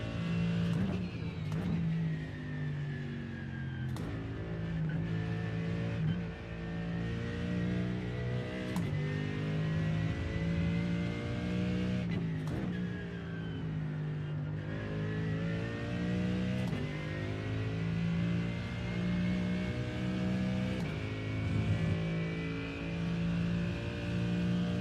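Porsche GT3 race car engine at Spa in iRacing, loud and continuous, revving up through the gears with sharp shift breaks and sustained high-revving acceleration.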